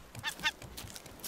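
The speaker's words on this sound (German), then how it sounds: "Was läuft mit dir schief, Möwe?" A seagull in the video game Raft gives two short nasal squawks close by, followed by fainter calls against a soft background.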